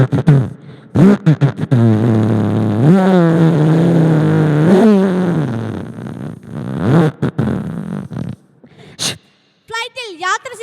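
A young performer at a school arts festival mimicry stage imitates a motorbike with her voice, producing rising, revving engine whines and sputters that swell and fall across several seconds, close and loud, ending with a few sharp vocal bursts.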